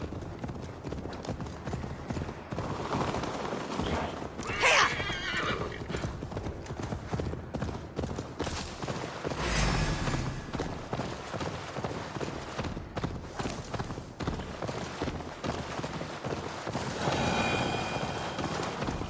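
A horse galloping in Assassin's Creed Valhalla, with rapid rhythmic hoofbeats running continuously and close, a brief whinny near the start, amid game ambience.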